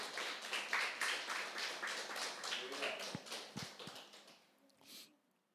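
A church congregation claps along in praise, a steady run of hand claps mixed with voices for about four seconds before fading out, with a few scattered claps at the end.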